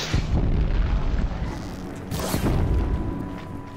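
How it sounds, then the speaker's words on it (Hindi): An explosion in the video game Horizon Zero Dawn gives a loud, close, rumbling boom that fills a few seconds, with no voices. "क्या धमाका हुआ किसी को कुछ पता नहीं चला"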